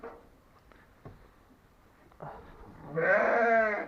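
After quiet rustling and a few faint knocks, a sheep lets out a loud, wavering bleat close by near the end.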